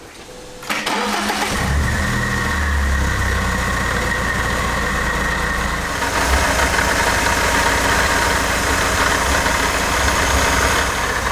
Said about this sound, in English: So let's start the engine up again